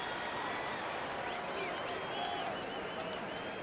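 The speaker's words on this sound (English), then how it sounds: "Yeah, fans are already applauding." Baseball crowd at a Yankees–Twins game in Minnesota applauding warmly as a player comes up, a distant, sustained stadium roar of clapping.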